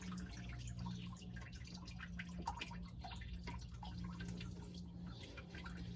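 Coolant water drains from the engine of a 1990 Volvo 240, trickling and dripping steadily, with irregular drops spattering close by throughout and no talk.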